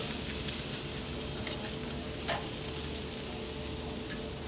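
Asparagus spears sizzle steadily on a grill over a heat deflector, cooking until crisp and tender while steaks rest; a continuous, fairly loud frying hiss with no talk.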